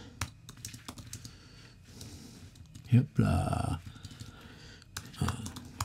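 Quick bursts of computer keyboard typing, close and clear, with a brief spoken phrase and a breathy noise in the middle.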